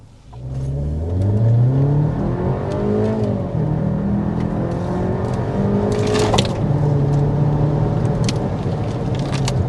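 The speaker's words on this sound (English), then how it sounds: "But first, we need to also get a hard acceleration." A 2026 Volkswagen Tiguan turbocharged SUV's engine revs up hard from low, the pitch climbing through gear changes toward 60 mph, with a steady loud drone heard from inside the cabin.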